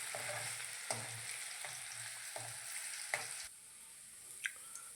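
Chopped green garlic sizzles in oil in a pan on a low flame, a quiet steady frying hiss broken by several sharp scrapes and taps of a spoon stirring against the pan.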